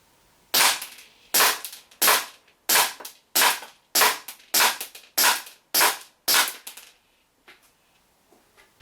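A WE G18c gas blowback airsoft pistol fires about eleven sharp, evenly spaced cracks in quick succession, loud and close, followed by faint clicks and handling noises.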